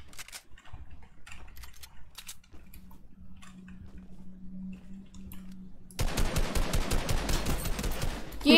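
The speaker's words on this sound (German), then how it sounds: "Jeder Schuss geht rein" Gunfire in the video game Fortnite, sparse scattered shots for the first few seconds, then a loud sustained burst of rapid automatic fire that continues to the end.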